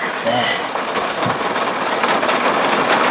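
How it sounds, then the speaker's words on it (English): Rain patters steadily on a parked car, heard from inside, a dense close crackle on the roof and glass that continues throughout while a voice talks over it. "You can hear it raining"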